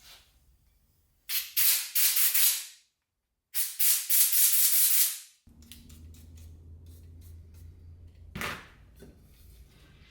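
Two loud, sustained bursts of compressed air hissing as it blows out carburetor holes on a 1974 Ford F100, each lasting over a second, followed by quieter clattering and a low background hum.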